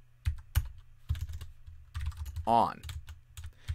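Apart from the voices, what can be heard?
typing on a computer keyboard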